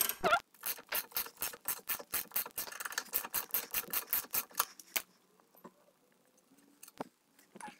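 Socket wrench ratcheting on a bolt during front air suspension removal on a car, a fast close run of about twenty crisp clicks for five seconds, then quiet with a few faint taps.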